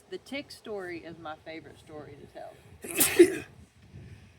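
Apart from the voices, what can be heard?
sneeze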